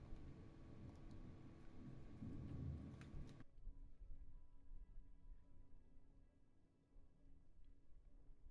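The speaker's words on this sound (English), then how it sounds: "I just had thunder outside." Thunder rumbles outside as a deep, low roll for about three seconds. It then cuts to a quieter hiss of steady background noise.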